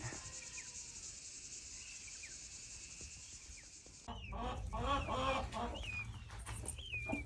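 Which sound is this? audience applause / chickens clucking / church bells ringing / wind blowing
chickens clucking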